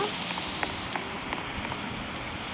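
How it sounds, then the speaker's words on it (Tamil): Steady rain falls in the Dead Rails video game, a dense even hiss with scattered droplet ticks throughout, no voices. "ஏன் மழை பெய்யுது?"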